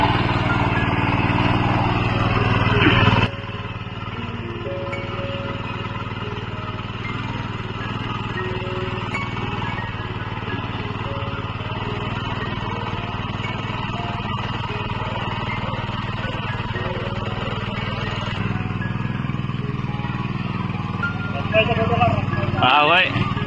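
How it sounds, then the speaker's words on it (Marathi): A tractor works a flooded paddy field during rice sowing in Konkan, its engine a steady, droning hum that runs continuously at an even pitch, while people talk nearby over it. "पण आम्ही ट्रॅक्टर फिरवतो।"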